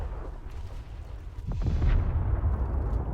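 Naval artillery from the HMS Tiger warship in War Thunder Mobile, a heavy booming cannon blast with deep rumbling bass that swells midway and lingers, fairly loud.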